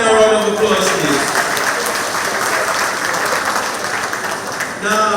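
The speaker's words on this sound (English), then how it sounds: "Let's give our men a round of applause, please." Audience at a community centre monthly meeting applauding the men, steady dense clapping filling the room for about five seconds, with voices and cheers mixed in over it.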